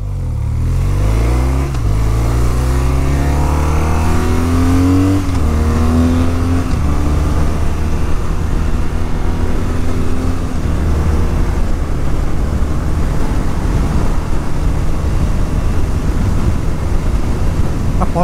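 A 2025 BMW R 12 cruiser motorcycle accelerates hard through its gears toward top speed, engine climbing in pitch with shifts in the first seconds, then a loud sustained roar buffeted by heavy wind noise.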